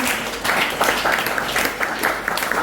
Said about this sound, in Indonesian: Oke, beri tepuk tangan sekali lagi dong untuk Tuhan.